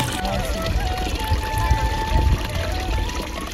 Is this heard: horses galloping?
no